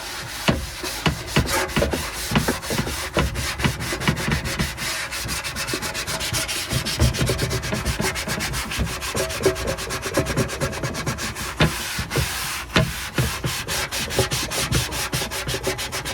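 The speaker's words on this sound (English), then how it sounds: "And that's just me repeatedly pressing and rubbing with that sponge." A sponge is pressed and rubbed again and again to scrub a surface, making a close, rhythmic scratchy rubbing in fast repeated strokes that continue without pause.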